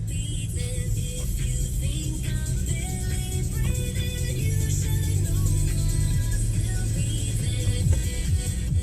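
Street traffic jam on Jalan Datu Museng in Makassar, a steady rumble of idling and creeping engines with scattered horn-like tones and motorbike revs, continuous and close.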